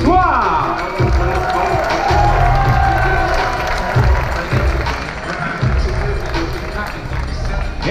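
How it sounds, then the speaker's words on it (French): A boxing-night crowd applauds and cheers loudly for a fighter stepping into the ring for his first bout, a dense, sustained roar of clapping and voices with an announcer's amplified voice over it. "On applaudit bien fort pour sa première sur un ring ce soir."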